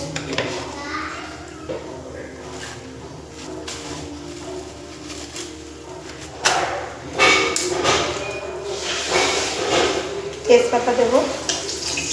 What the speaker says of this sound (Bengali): জিরে ফোড়ন দেবো